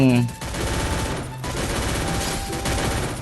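Rapid automatic gunfire in the battle-royale game Free Fire, dense and loud, running continuously for several seconds with game sounds layered in.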